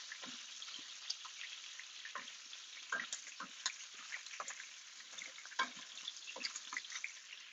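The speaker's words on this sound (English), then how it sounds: "We have our our bacon frying," Bacon frying in a pan at home, a steady, moderately quiet crackle and sizzle with scattered sharp pops and spits throughout and no voices.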